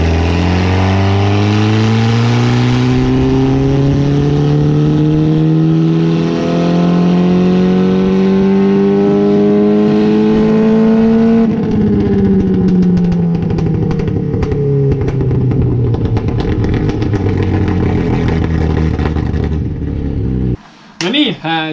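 A Škoda Fabia Proto rally car's engine climbs steadily through a long, loud wide-open-throttle pull on a dyno, pitch rising for about eleven seconds, then dropping and holding with crackling roughness before abruptly cutting off near the end.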